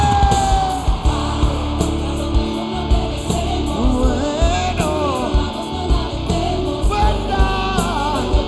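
A large festival crowd at the Viña del Mar festival shouts 'Chile' in a rhythmic, repeated chant, loud and dense, over music.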